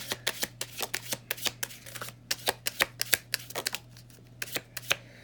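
Tarot cards shuffled in quick bursts, a rapid series of crisp slaps and flicks set against a low steady hum, which slows and fades near the end, with no voices.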